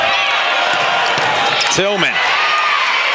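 The crowd at an NCAA volleyball match between Marquette and High Point roars in a steady, loud wash of cheering under a commentator's voice.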